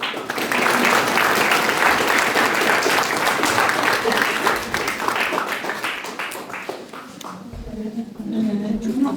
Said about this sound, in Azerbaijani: Gəlin bir alqışla Malik Səbirinin valideynlərinə